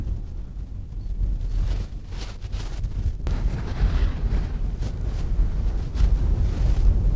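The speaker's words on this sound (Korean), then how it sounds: "지금 바람이 겁나게 불고 있는데" Strong seaside wind buffets and roars across the microphone in heavy, uneven gusts, with a deep rumble throughout, on the coast at Sindo-ri, Jeju.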